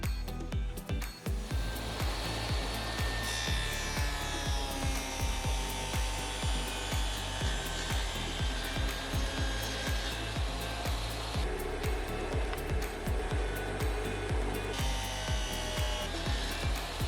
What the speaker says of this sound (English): I had to adjust my dado stack just a tad and then ran it through again